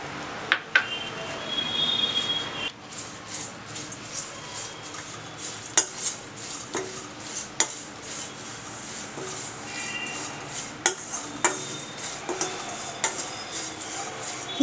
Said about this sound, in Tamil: இப்போ முதல்ல வந்து நம்ம அவல் வறுத்துக்கலாம்